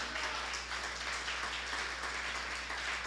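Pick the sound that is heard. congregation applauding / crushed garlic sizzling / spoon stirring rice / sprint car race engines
congregation applauding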